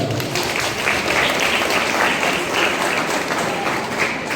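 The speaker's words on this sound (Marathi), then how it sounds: "तिच्यासाठी एकदा जोरदार टाळ्या" Steady, loud applause from a crowd of clapping hands for a student at a high school event, sustained evenly throughout without pause.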